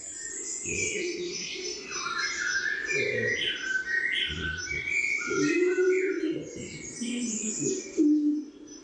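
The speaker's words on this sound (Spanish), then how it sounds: "Con el arrullo de la paloma turqué." Bolle's pigeon coos in the Canary laurel forest of Garajonay on La Gomera, low repeated notes under a dense chorus of chirping songbirds, with a person speaking over the birds.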